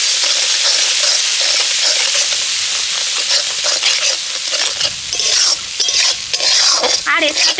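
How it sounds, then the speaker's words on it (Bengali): Spice masala with Kashmiri chili powder and a splash of water is stirred and fried in a pan, giving a loud, steady sizzle broken by scraping spatula strokes and utensil clatter throughout. "দিয়ে মশলাটাকে ভালো করে কষিয়ে নেব।"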